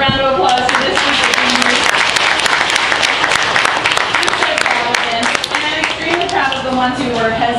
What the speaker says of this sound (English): Can I have another round of applause for this one?